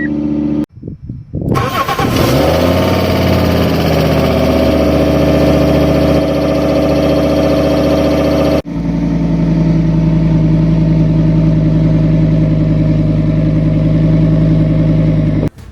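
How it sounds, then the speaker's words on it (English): A water-damaged Fiat Stilo Abarth cranks briefly and fires up, settling into a loud, steady idle close by, with a sudden shift in engine tone partway through; no talking. "The car starts up immediately."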